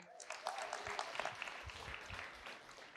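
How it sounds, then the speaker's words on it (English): Applause from an audience at a post-screening panel Q&A for a seed oils documentary, scattered claps rising and fading, faint and somewhat distant in the room. "So big round of applause for all of you for showing up tonight."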